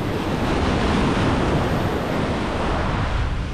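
Ocean waves and heavy swell breaking on a beach, a loud continuous rushing wash mixed with wind buffeting the microphone, no voices.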